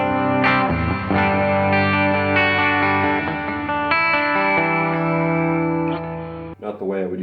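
Sustained electric guitar chords through a Headrush Bright Hall reverb with pre-delay ring out with a lush, spacious reverb tail, the notes blooming slightly after each strum before fading.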